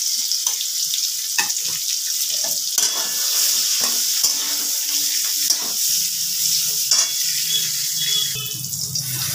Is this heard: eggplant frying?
yes